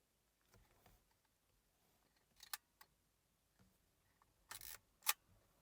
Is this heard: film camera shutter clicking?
yes